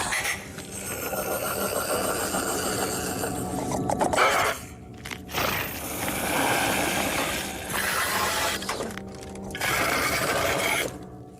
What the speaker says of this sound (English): But here is the sound of the blind monster.